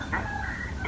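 A rooster clucks briefly in a short, steady burst of throaty fowl calls, fairly close, heard over a phone call, with no talking.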